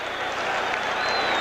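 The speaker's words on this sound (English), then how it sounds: "this giant crowd has suddenly become revved up" A huge football stadium crowd at a 1980 Cowboys–Giants game cheers and applauds in a dense, steady roar that holds loud and unbroken throughout.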